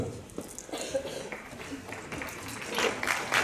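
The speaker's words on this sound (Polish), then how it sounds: "Pięknie Państwu dziękuję za te brawa" An audience at a business forum award ceremony in Krynica-Zdrój claps in scattered, fairly faint applause that swells toward the end, mixed with background voices.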